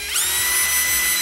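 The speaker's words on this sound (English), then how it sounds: "Just going to use a drill bit here in the center" A power drill with a bit spins up and runs steadily while marking a hole in an aluminum side-mount deck post bracket, a loud continuous high whine that starts sharply and holds.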